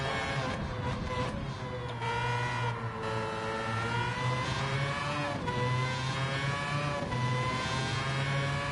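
LM55 VGT race car engine in Gran Turismo 7, a loud, sustained, buzzing whine that climbs in pitch through repeated gear changes, alone and close throughout.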